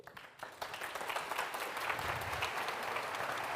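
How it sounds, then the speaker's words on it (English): A large audience at a tech keynote on modern Android development breaks into sustained applause that swells and holds steady. "Getting a clap for you."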